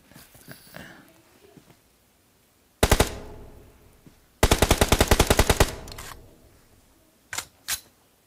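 Gunfire in a mobile battle-royale video game: a short rattling automatic burst, then a longer rapid string of shots and two brief single cracks near the end, loud against a quiet background.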